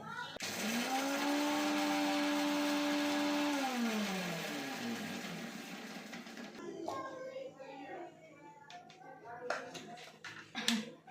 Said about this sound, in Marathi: पहिले मी मिरची, लसूण आणि जिरे दळून घेते मिक्सरमध्ये